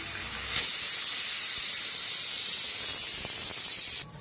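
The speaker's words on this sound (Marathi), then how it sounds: "तर बघा कुकरची शिट्टी द्यायला लागले" A pressure cooker vents steam while pumpkin cooks, a loud steady hiss that begins abruptly, holds evenly for about three and a half seconds, then cuts off, with no talking.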